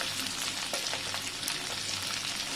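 Karandi shrimp fry in a hot pan with oil, a continuous close crackling sizzle with small pops throughout and no talking.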